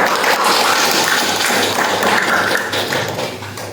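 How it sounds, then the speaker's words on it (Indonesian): An audience claps at a ceremony installing a village security community group in Desa Aras, Batubara, a loud, dense burst of applause that holds steady and then tapers slightly at the end. "kita sambut dengan tepuk tangan yang meriah"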